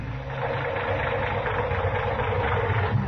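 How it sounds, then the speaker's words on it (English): A steady, low engine rumble idles evenly throughout, close and continuous, with no speech. "that engine of yours sounds like real tired iron"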